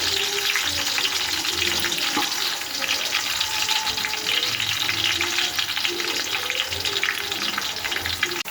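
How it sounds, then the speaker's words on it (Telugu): Chopped onions sizzle in hot oil for a mushroom pulao, a loud, steady, close frying hiss that carries on unbroken throughout with no voices. "ఇప్పుడు ఉల్లిగడ్డలు వేస్తున్నాను. ఉల్లిగడ్డలు అయితే బ్రౌన్ కలర్ వచ్చేంత వరకు వేగాలి బాగా."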